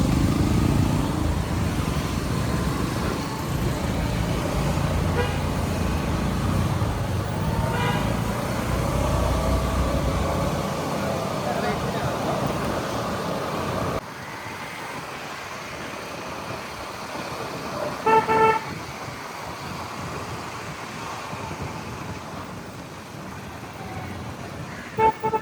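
Busy town street traffic in Malvan, a steady roar of engines and motorcycles with short car-horn toots popping out near the end.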